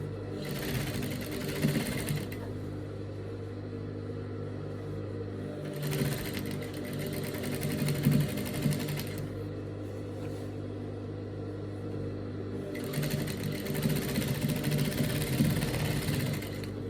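A sewing machine stitches a front twist dress in steady, close mechanical runs of rapid whirring, pausing briefly between bursts and restarting, with no voices.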